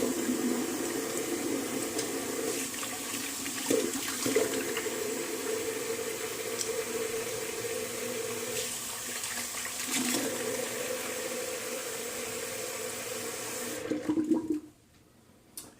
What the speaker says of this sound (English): Okay, I'm gonna do a cold water rinse.